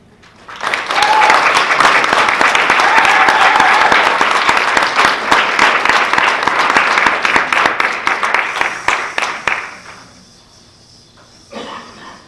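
An audience gives a speaker a long, loud round of applause that swells quickly, holds for several seconds and then tapers off into faint room noise.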